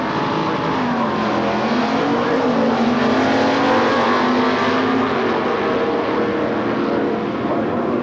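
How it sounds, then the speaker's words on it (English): Steady, loud roar of a 1969 Chevy Camaro small-block H stock automatic drag car at an NHRA event in Gainesville, engine note holding and rising slightly through the run with constant crowd-and-track noise beneath. "The 69 Camaro Chevy small block car in H stock automatic"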